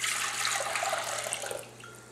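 Coconut water being poured into a container while making coconut kefir, a steady close splashing stream of liquid that runs continuously and eases off slightly toward the end.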